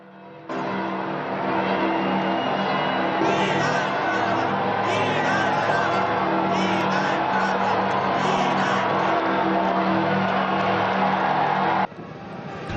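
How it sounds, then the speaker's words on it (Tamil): A large crowd gathered in St Peter's Square at the Vatican cheers and applauds after white smoke appears, a dense, loud and continuous roar of voices and clapping lasting nearly the whole stretch before cutting off abruptly. "மக்கள் ஆரவாரத்துடன் கரகோஷம் எழுப்பி தமது மகிழ்ச்சியை வெளிப்படுத்தினர்"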